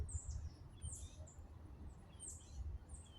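Birds in the woods give faint, high chirps in short repeated bursts over a low, rumbling outdoor background.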